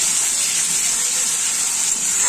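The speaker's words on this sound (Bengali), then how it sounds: "এখানে আমি পেঁয়াজ আর টমেটো দিয়ে দিয়েছি ফ্রাই করার জন্য।" Onions and tomatoes frying in oil, a steady bright sizzle that holds evenly at close range with no talk.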